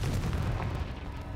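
A Confringo blast spell detonating in Hogwarts Legacy, a video game, heard as a short, dense rumbling explosion with rapid popping crackle, loud and close throughout.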